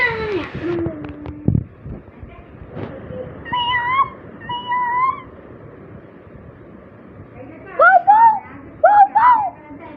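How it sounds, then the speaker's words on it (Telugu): A few short, high, wavering meows sound in a quiet room, with a couple of clearer cat cries near the end. "ఇప్పుడు కుక్కలాగా పిల్లిలాగా అరుపులు వచ్చాయి కదా, అవి మా కుక్క పిల్లిలేండి"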